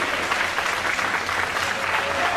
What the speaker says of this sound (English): Crowd continues fervent support for both these men